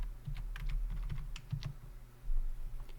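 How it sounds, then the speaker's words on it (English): Quick, light clicks of a computer keyboard as a zip code is typed into a website's events page, with a steady low hum beneath and no voices. "what you want to do is type in your zip code"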